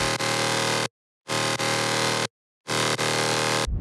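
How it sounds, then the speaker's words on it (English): Three loud bursts of dense, distorted drum and bass synth bass, each under a second long, separated by short silences. "The mid bass sounds like this."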